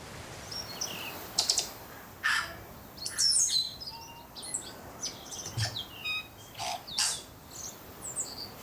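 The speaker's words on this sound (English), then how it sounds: "That's a tui, and the tui is a native New Zealand bird." A tui, a native New Zealand bird, sings in a forest with varied chirps, whistles and clicks, interleaved phrases repeating over several seconds against a soft background hiss.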